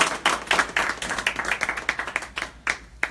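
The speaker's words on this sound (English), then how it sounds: "Let's give him a round of applause." A small seminar audience gives a round of applause, a thin scattering of individual claps with distinct sharp hits over about three seconds.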